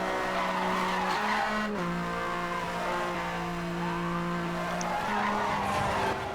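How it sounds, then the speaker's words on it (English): Porsche flat-six engine in NFS Hot Pursuit Remastered, a loud sustained engine note whose pitch drops and climbs with gear changes, accompanied by tire skidding and squeal, with no talk. "Who knew Porsche could make a flat six sound so freaking good?"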